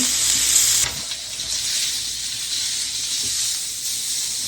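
Steak frying in a pan in a home kitchen gives a loud, steady sizzle and hiss that runs the whole time, with a brief sharper burst near the start and no talk over it.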